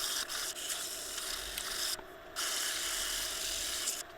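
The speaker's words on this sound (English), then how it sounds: "I'm going to sand it up and give it the same treatment." An acacia hardwood stringer is sanded with steady, close abrasive rubbing strokes and two brief pauses, with no talking.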